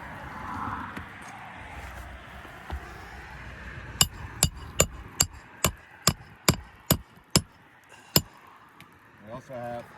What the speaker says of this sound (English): Be able to hammer it in the right way.